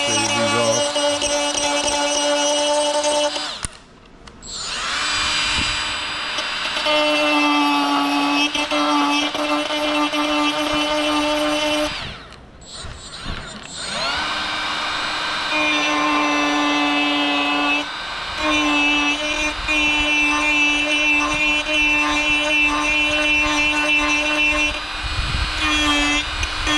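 A small handheld grinder whines steadily as it shaves plastic tabs off a trim piece during a stereo upgrade on a 2022 Dodge Ram TRX, running in long loud passes broken by two brief pauses.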